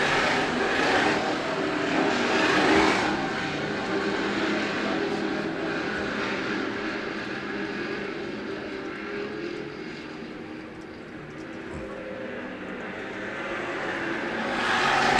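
Sportsman-class race cars roar around the Freedom Motorsports Park track in a continuous, loud engine drone that swells and fades slightly as the field passes, with no talking.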